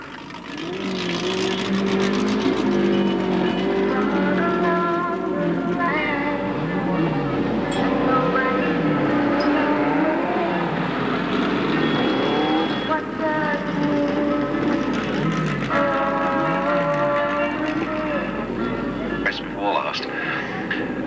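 A race car on a raceway circuit in 1983 drives its lap of honour, the engine note rising and falling in repeated sweeping passes at a moderate distance, with a commentator talking over it throughout.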